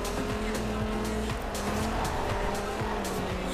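BMW driven hard through a corner in the Forza Horizon 2 racing game in Nice, with a steady engine drone and repeated tire squeals, loud and continuous with no talk.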